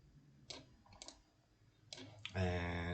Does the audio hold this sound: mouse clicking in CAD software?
yes